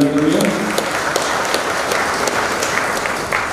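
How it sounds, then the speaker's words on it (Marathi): An audience breaks into sustained applause of congratulation at a family celebration, a dense, even wash of many hands clapping that carries on for several seconds, with a brief voice at the start. "आपण टाळ्या वाजवून त्यांचं अभिनंदन करूया"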